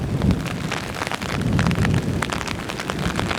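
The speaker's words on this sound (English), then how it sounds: "it's all overcast and windy and rainy and the palm trees blowing in the wind" Steady rain and gusting wind along an overcast coast on Jeju Island with palm trees, a dense wash of drops and low rumbling buffeting that stays fairly loud and constant, with no voices.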